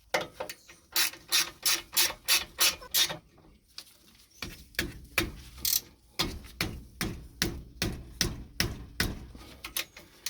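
A ratchet wrench tightens a brake caliper bolt on a 1979–96 Cadillac, a close, crisp run of rapid clicking bursts in steady back-and-forth strokes with a brief pause midway.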